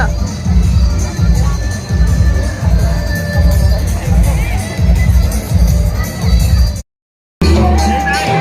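A big, loud crowd at a wedding reception party fills the space with dense chatter, shouting children and occasional whoops in steady pulsing waves, broken by a brief dropout near the end.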